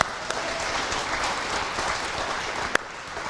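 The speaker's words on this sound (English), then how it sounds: "They would appreciate our applause." A Unitarian Universalist congregation applauds during a Sunday service, a steady, full wash of clapping that holds evenly for a few seconds with one sharper clap standing out near the end.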